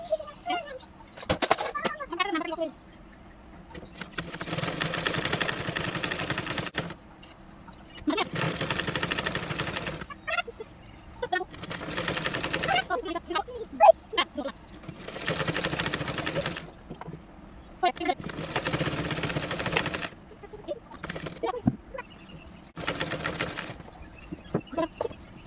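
A sewing machine stitches a pajama or salwar seam in several loud, rapid bursts of a few seconds each, separated by pauses where someone talks.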